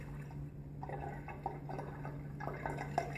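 Homebrew beer being strained to remove sediment, with soft irregular drips and trickles of liquid over a steady low hum, quiet and close.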